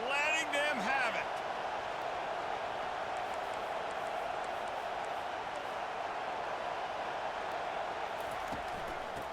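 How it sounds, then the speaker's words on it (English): A steady, dense roar from a big stadium crowd in the EA Sports College Football video game. It rises briefly under a commentator's voice at the start, then holds as an unbroken wash of crowd noise. "this crowd is letting them have it"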